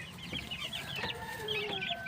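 Gamecocks clucking close by, a rapid series of short clucks and calls over a quiet outdoor background.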